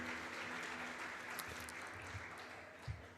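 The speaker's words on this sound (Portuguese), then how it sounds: "Vamos dar uma salva de palmas para o Matheus aí." A church congregation gives a round of applause to welcome a newcomer, a faint, steady crowd clapping heard from a distance throughout.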